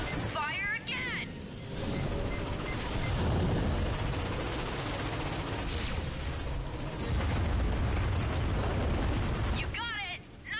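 A loud, sustained video-game ion cannon blast rumbles and roars for several seconds, with warbling electronic tones at the start and end.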